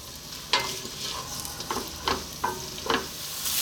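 Onions for chicken biryani fry in a pan with a steady close sizzle, broken by several brief scraping stirs at irregular intervals.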